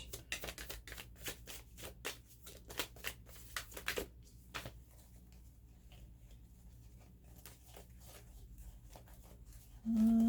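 Tarot cards shuffled by hand during a reading, a series of quick, crisp riffling bursts for the first few seconds, then quieter soft handling, with a brief tonal sound entering at the very end.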